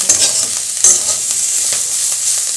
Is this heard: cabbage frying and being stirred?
yes